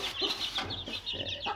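Free-range hen brooding on a clutch of eggs, giving soft repeated clucks and low murmuring calls from close by, steady and fairly quiet, with no talking.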